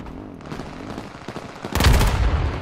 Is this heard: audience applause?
no